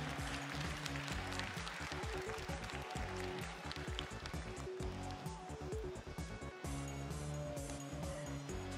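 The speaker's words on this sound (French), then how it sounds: "on les applaudit très très fort et on le remercie" Sustained clapping from spectators around the Charolais cattle show ring at the 2020 Paris agricultural fair, steady and fairly faint, mixed with a loud rhythmic music track.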